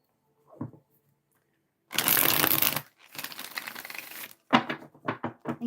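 Tarot cards are shuffled in a few bursts close to the mic: a long riffling whir, then a softer stretch of sliding and tapping, then short crisp flutters.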